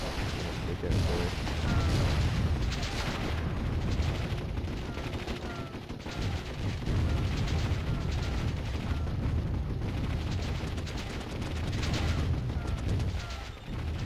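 Mortar and artillery fire in the Warzone 2100 strategy game, a dense continuous rumble of booms and explosions with crackling gunfire, loud and unbroken throughout.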